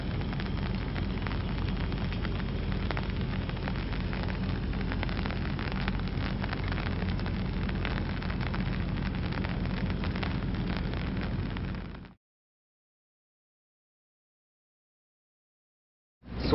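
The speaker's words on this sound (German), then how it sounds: "So schaut es in Vietnam aus, wenn es mal regnet." Rain pours down steadily in Vietnam's Ha Long Bay area, a dense, even hiss of drops on surfaces. It continues unbroken for about twelve seconds, then cuts to silence.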